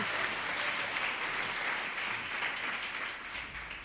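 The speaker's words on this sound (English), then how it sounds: "I just want to give a round of applause for Brad and also his lovely wife, Sue Roos" A crowd at a Sustain Rockford tenth-anniversary celebration claps steadily for an honored couple, a dense, even round of applause from start to finish with no voices on top.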